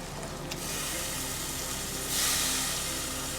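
Chicken pieces go into a hot pan of fried tomatoes for biryani, producing a steady, close sizzle and hiss that swells briefly louder partway through.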